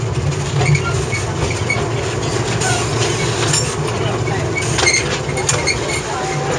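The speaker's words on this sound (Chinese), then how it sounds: "我们就来改装这一种甘蔗车，变成载客人的这个观光小火车" A small tourist train, converted from sugarcane rail cars at a sugar factory, rolls along its rails with continuous rumbling, rhythmic clickety-clack and occasional metallic squeals from the wheels, loud and close throughout.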